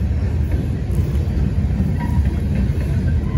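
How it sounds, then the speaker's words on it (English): A train passes near a river where someone is fly fishing, a steady low rumble of rolling rail cars that stays loud throughout the short stretch, with no talking. "There's the train right there."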